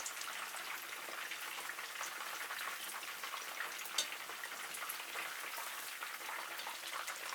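Lemongrass chicken pieces frying in oil at about 150 °C, a steady close crackling sizzle with no pauses and one brief louder pop.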